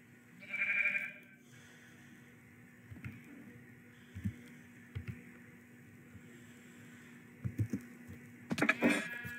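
A Minecraft sheep bleats once, loud and close, near the start, followed by quieter game sounds and a few soft thumps, with no talking.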